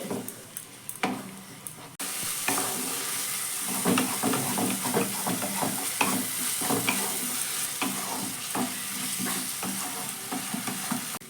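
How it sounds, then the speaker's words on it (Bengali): Spice masala with a splash of water is stirred and fried in a pan for a soybean dish, giving a steady close sizzle with repeated scraping strokes of the spoon, and no talking. "জলটা দিয়ে আবারও মশলাটা কিন্তু খুব ভালো করে কষিয়ে নিব"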